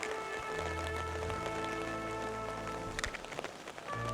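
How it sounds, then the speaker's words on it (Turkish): Rain falls steadily outside the Church of Saint Nicholas, a soft, even patter that continues without pause through the short stretch. "Yağmur yağıyor"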